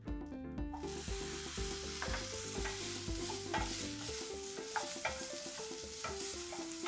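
Tamarind and coconut fry in a pan for curry leaf chutney, a soft steady sizzle with repeated stirring scrapes, while tonal background music plays prominently over it.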